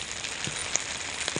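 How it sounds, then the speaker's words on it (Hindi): Rain falls steadily, a soft even patter on surfaces with a few closer drips, heard up close and fairly quiet with no talk. "तो गाइस बारिश हो रही है"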